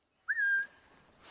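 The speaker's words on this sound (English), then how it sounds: "Alright, so we can whistle." A single short whistle rings out in Assassin's Creed Mirage, a clear rising-then-steady tone lasting under half a second against near silence.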